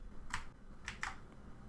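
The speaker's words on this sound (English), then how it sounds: "simply press Ctrl+A key on your keyboard" Two quick key presses on a computer keyboard, a Ctrl+A shortcut typed to select all text, sounding as sharp, close clicks, the second pair coming in fast succession, with no talk.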